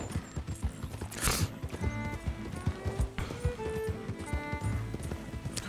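Thoroughbred horse hooves clop in a video game, a busy run of close hoofbeats with whinnies and neighs breaking in over ambient game sounds.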